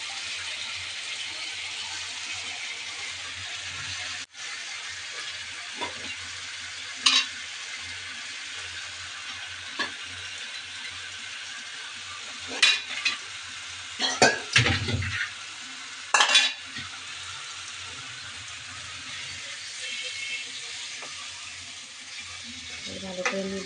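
Country chicken frying in a cooked spice paste, with potatoes nearby, sizzles quietly while a spoon scrapes and knocks against the pot in scattered bursts, clustered toward the middle.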